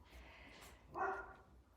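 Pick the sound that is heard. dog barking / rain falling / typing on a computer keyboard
dog barking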